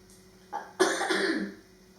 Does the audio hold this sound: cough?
yes